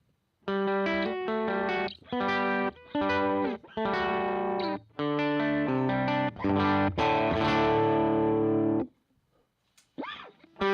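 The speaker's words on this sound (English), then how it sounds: "So we'll do clean tone first." A guitar through an amp modeler in a clean tone plays a series of chords and short phrases, each ringing briefly before stopping, then fading out near the end with a faint noise after.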